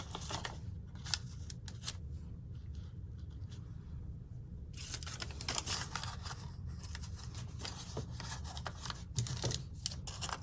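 Scissors cut a craft piece in half for a mixed media art journal, giving a run of soft, close, irregular snipping and rustling paper sounds over low background noise, with no one talking.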